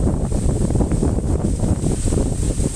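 Strong, steady wind from Cyclone Remal roars and buffets the microphone continuously, a dense low rumble with no pauses and no voices.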